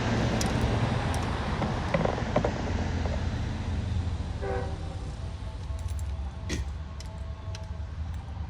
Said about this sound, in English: as he's just departing Kings Park now